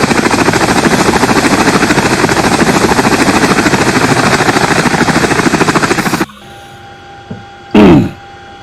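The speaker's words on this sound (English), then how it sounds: "I love this helicopter. It's quite a good helicopter actually." Loud, rapid twin-rotor chopping from a Chinook helicopter, continuous for several seconds, then it cuts out to quieter whirring and a brief whoosh.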